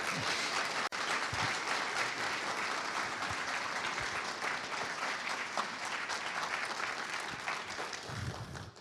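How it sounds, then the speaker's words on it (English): An audience at an evening talk on earth grids and megalithic temples applauds steadily, a dense, even wash of clapping lasting several seconds with no voices over it. "a big Earthkeeper round of applause for Hugh Newman"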